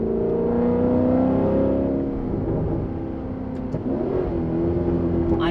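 An Alfa Romeo 8C Spider in sport mode revs its engine, a steady mid-pitched drone that climbs in pitch and then eases off, heard from inside the car with no talking.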